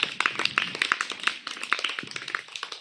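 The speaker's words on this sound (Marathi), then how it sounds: "टाळ्या होऊन जाते" Children clapping in a Marathi village school classroom during a quiz, a short lively round of many small hands clapping quickly and unevenly at close range.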